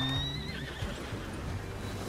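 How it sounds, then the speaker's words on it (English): A horse in Red Dead Redemption 2 gives a loud, close whinny with a wavering, falling pitch, under a low rumble of background game ambience. "David, there's a horse over here."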